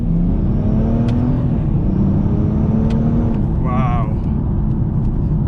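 A Stage 3 tuned BMW 430d diesel pulls hard in second gear, its engine drone climbing steadily and loud throughout, with road and wind rush filling the cabin and a brief higher whine midway.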